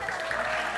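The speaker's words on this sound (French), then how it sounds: "j'aimerais qu'on applaudisse tes superbes chaussures" A short burst of studio audience applause on a French TV show, dense continuous clapping at steady volume, cut off abruptly.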